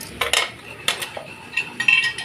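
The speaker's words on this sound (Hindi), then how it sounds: "हिलाएंगे।" Daal mash stirred in a pot after black pepper and ground coriander go in, giving a few close metallic scrapes and clinks of a spoon against the pot in bursts, with no talking.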